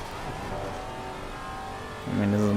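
A Maserati GT4 race car in Assetto Corsa Competizione drones at steady engine pitch, then revs up sharply and louder near the end, heard from the cockpit with no one talking.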